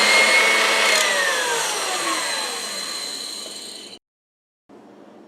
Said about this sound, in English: I'm going to now continue whisking this until it is a nice stiff peak